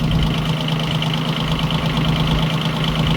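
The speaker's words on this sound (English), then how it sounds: "So this is an early Iseki 4-wheel drive." An early Iseki four-wheel drive tractor with a twin-cylinder engine runs steadily nearby, a loud continuous idling thump with a strong low hum and rattling vibration.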